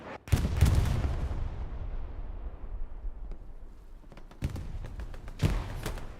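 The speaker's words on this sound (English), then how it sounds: "artillery landing from both parties here on checkpoint" Artillery shells landing in a WWII video game match on a contested checkpoint, with a heavy close blast at the start whose rumble fades, followed by two more sharp impacts later over distant battle ambience.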